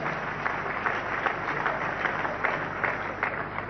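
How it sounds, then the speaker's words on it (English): Congregation applause at a church service, a steady wash of many hands clapping at moderate loudness with no speech over it. "Shall we clap for wonderful Jesus Christ for that?"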